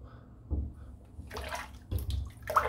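Water splashing and running while shaving lather is rinsed off, a few short bursts of sloshing over a low steady hum, fairly quiet and close.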